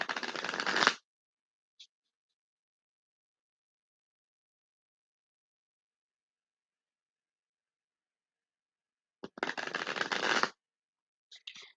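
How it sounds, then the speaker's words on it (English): Archangel Raphael healing oracle cards being shuffled by hand, two close bursts of brisk papery riffling, one about a second long and another near the end, separated by long silence. "So I'm going to shuffle these 2 more times"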